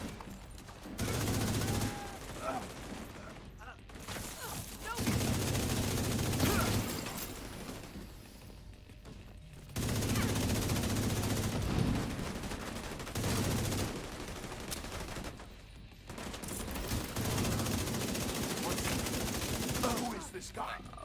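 Repeated bursts of blind-fired gunfire in a PvE video game, coming in several sustained volleys separated by brief lulls, with talk in between.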